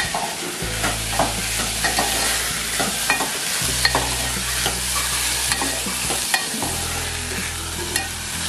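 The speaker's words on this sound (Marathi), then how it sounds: "मस्त झणझणीत अशी फोडणी झाली बघा, किती मस्त, किती दरवळ सुटल्या फोडणीला." Spices sizzle loudly in hot oil as a tempering for mung bean curry, with continuous close frying hiss, stirring clinks and a low burner hum, no talking.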